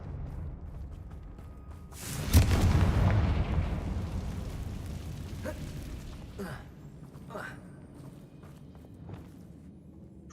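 A Confringo fire spell in the video game Hogwarts Legacy bursts into a loud, rumbling explosion that swells suddenly and then slowly fades over several seconds, followed by a few faint clicks and steps.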